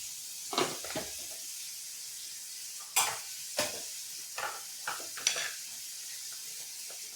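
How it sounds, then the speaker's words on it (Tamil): Mutton with turmeric, chili powder and ground cumin-fennel spices stirred in hot oil for Chettinad-style kola urundai, giving soft sizzling and scattered close spoon scrapes against the pan, without speech. "நல்லா அப்படியே இந்த எண்ணெயிலே வதங்கட்டும்"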